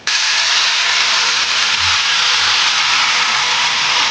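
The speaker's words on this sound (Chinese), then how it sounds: "煎至下边这种焦黄的时候，就可以加面水了" Flour-water slurry hisses loudly and continuously in a preheated, oiled frying pan holding golden-bottomed steamed flower rolls, a dense, even steam sizzle from the first instant to the end.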